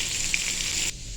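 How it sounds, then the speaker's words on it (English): Chicken fries in a hot pan with a steady, close hiss of sizzling oil that abruptly drops away near the end. "here's the chicken. It's cooking, you know what I'm saying, sizzling and everything"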